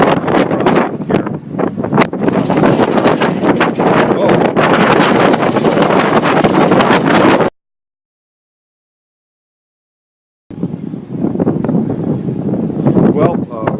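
Strong wind buffets the microphone on an open ferry deck during a foggy, chilly crossing toward Cape May, a loud steady roar that cuts to silence for about three seconds before returning.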